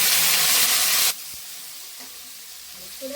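Tomatoes sauté in a pan for Katla fish curry, a loud dense sizzle for about a second that then drops to a quiet simmering crackle.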